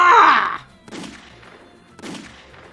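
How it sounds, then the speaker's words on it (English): Gunshots in the video game Steam Prison, one loud burst followed by two softer, spaced shots with lingering tails, repeated fire until the gun is empty. "He shot him again and again until he had no more bullets."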